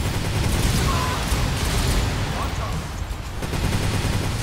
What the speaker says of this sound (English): these missiles have a mind of their own, dude